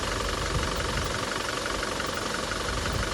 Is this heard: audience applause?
no